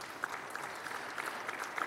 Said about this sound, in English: So a big round of applause for you, and thank you.